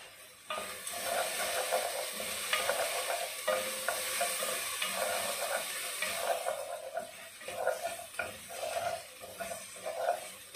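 Whole cloves and black peppercorns crackle and sizzle in hot oil in a pan while being stirred, a steady close frying hiss with scraping stirs throughout, no talking.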